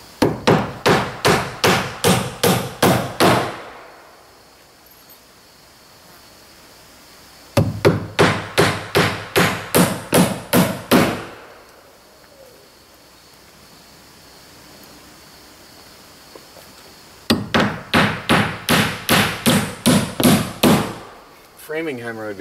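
Sheathing on a tiny house wall being nailed with a hammer, not a framing hammer: three bursts of rapid, evenly spaced sharp blows, separated by quiet pauses.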